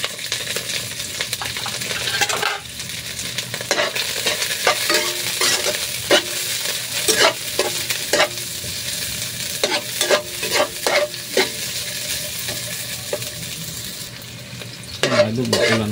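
Garlic, ginger and onion frying in hot oil in a pan, with a steady sizzle broken by repeated sharp stirring scrapes and clinks, close and alone.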